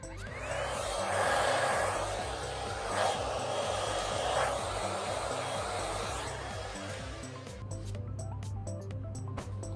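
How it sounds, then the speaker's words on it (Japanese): A hair dryer blows steadily on long hair while a comb lifts the roots at the parting, a close, continuous rushing airflow with slight surges that lasts the whole stretch. "たるみを作ったところでドライヤーを当てていきます。"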